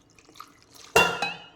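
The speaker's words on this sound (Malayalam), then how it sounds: "കുറച്ച് വെള്ളം ഒഴിച്ചു." A brief splash of water poured into a metal pressure cooker holding jackfruit seeds, with a bright ringing onset and a second smaller splash just after, close and fairly loud.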